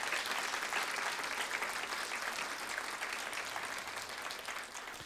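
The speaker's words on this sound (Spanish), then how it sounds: "Es digno de darle un aplauso a nuestro Señor" Applause from a church congregation honoring the Lord during a sermon, a dense, continuous wash of clapping heard from a distance that fades slightly toward the end, with no voices over it.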